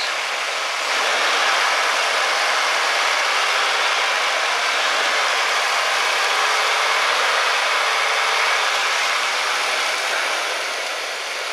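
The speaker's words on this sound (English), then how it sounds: "But you can hear the engine. It sounds really good. I'm gonna give it a little bit of gas." A Ford Taurus car engine revs with a loud, steady roar throughout, holding a constant pitch with a slight rise, then easing off at the end.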